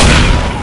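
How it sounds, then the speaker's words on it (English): A loud, close explosion in Left 4 Dead 2 fills the moment with a heavy, broadband roar and deep rumble that fades slightly over its short span. "And then it blows up."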